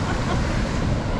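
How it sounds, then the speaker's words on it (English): Wind roars steadily and loudly at Twin Falls on Cape York, a constant broadband rush with water noise mixed in and no voices. "the wind's going up"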